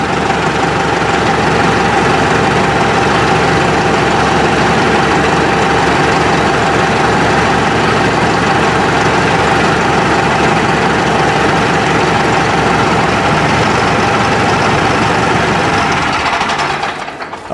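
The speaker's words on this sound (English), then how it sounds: "you can idle it up just a little bit if you want, but it was idling originally about" A Mahindra 8560 tractor's diesel engine idles close by, a loud, steady low rumble with constant mechanical clatter and vibration that runs unbroken before cutting off abruptly at the end.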